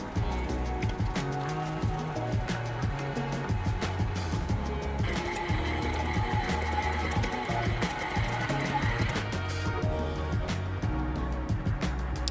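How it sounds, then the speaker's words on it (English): A stand mixer kneads vegan bread dough for hot dog buns, its motor holding a steady, continuous whir with a rhythmic low churning throughout, loud and unbroken without talk. "Add 1 tablespoon of instant yeast and mix it in the stand mixer for about 5 to 7 minutes until you see the dough start to form."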